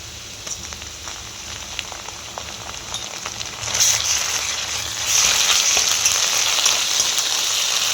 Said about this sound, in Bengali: পেঁয়াজটা ভাজা হয়ে গেছে, এর মধ্যে এবার আমি আদা রসুন বাটাটা দিয়ে দেব।